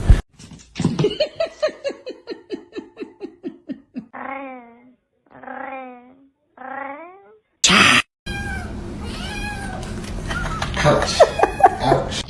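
A cat trapped in a floor gives a run of repeated, rising meows, some drawn out into wails, close to the microphone, followed by rustling, a sharp thump and people talking and laughing.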